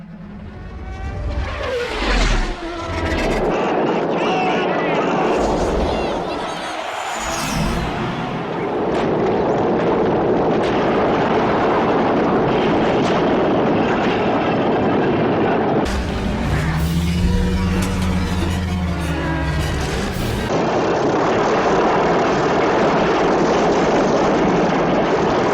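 Star Wars Episode I pod racer engines roar past loudly and continuously, with a dense, steady howl that swells into a sharper, harsher pass near the end and carries no talk.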